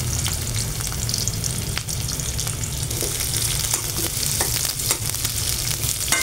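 Onion and green chili frying in hot oil for a pabda fish dish, a loud continuous crackling sizzle with scattered pops and stirring scrapes, close up and with no talk.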